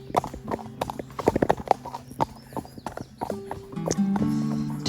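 Horses on a long-distance horseback trek along an old canal give quick, close clip-clopping hooves in an uneven rhythm, followed by a sustained whinny near the end.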